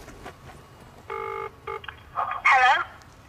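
A telephone is dialed to set up a prank call: a few clear beeping tones in quick succession, followed by brief electronic chirps and warbles on the line, fairly close over a quiet background.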